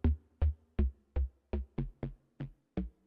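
Deep, subby synth bass from a Nektar Bolt synthesizer plays a steady line of nine punchy, evenly spaced notes, each decaying quickly, heard alone without talk.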